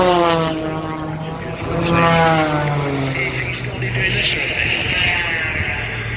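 Aerobatic propeller plane flying another pass low over the Douro river during an air show, its droning engine note rising and falling steadily throughout, with a commentator talking over it.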